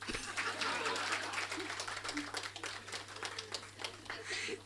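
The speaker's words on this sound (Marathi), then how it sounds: "टाळ्या." An audience at an interview event marking 25 years of a translation work breaks into applause, a moderate, fairly faint burst of many hands clapping that fades and swells, with a low steady hum underneath.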